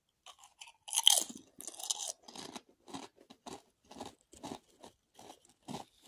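Close, crunchy bites of chili cheese fries come in an irregular series of chewing sounds, with one louder crunch near the start.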